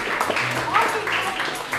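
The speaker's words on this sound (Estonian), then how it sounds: "Aplaus neile" An audience applauds jury members at an evening event; a continuous crowd clapping runs underneath a presenter talking over it.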